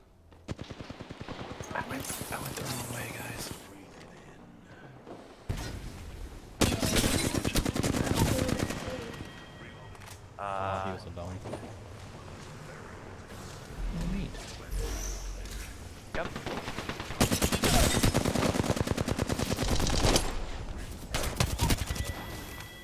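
Gunfire in an online multiplayer video game: bursts of rapid shots and loud sustained volleys under constant voice chat among several players, with game background noise throughout.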